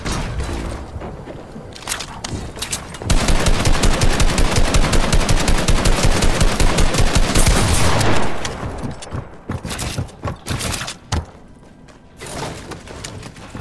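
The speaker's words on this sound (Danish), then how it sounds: "Han er dernede og skyder nærdroppet" Rapid automatic gunfire in the battle royale game Fortnite: a few scattered shots, then a loud, dense, sustained burst of fast shots for several seconds, tapering off into sporadic bursts near the end.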